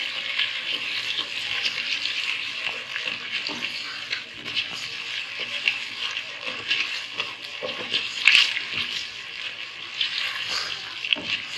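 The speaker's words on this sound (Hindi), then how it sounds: "थोड़ी देर चीनी के साथ हमने बोटियों को भूनना है" Chicken pieces frying with sugar in a pan, a steady close crackling sizzle with occasional stirring scrapes, alone throughout.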